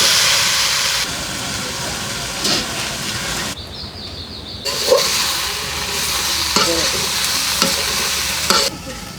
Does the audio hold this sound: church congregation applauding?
no